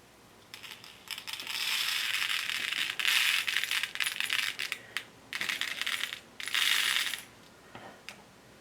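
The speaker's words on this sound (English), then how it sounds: "if you are pouring beads, do it over something like a paper towel or a cloth" Small glass beads poured into a jam-jar lid for a craft project, making dense, bright rattling and clicking bursts as they tumble and bounce, in several close pours with short pauses between.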